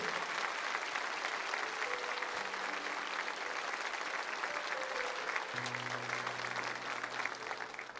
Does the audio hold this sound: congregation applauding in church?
yes